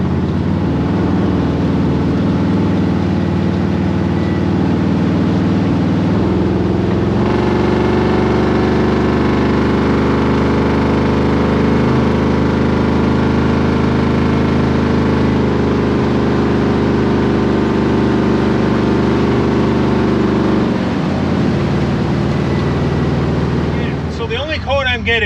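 An LS-swapped rat rod V8 idles steadily with a cylinder 8 misfire, its rough, uneven engine drone running continuously and fairly loud throughout, with wind noise on the microphone and a brief change near the end.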